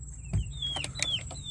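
Backyard chickens in a coop cluck in a few short, clear bursts close by, with one louder squawk near the start and no voices.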